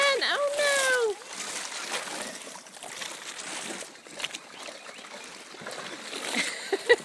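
A dog falls off a bouncing dock into water with a loud burst of sloshing, then the water keeps lapping and splashing more softly, with a brief high call at the start.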